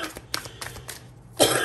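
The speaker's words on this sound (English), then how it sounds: "I'm so sorry that you hear my cough." A woman gives a few rough, separate coughs close to the microphone, followed by a louder burst of throat noise at the end, with no talk.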